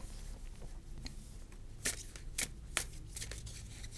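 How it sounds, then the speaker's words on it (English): Tarot cards being shuffled by hand give a few quiet riffling flutters and soft snaps, close and faint against a low background hiss. "Try and shuffle properly."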